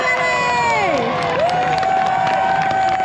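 Spectators cheering at the Paris-Roubaix cycling race, a close, loud burst of excited shouts and whoops with rising and falling voices over a crowd murmur.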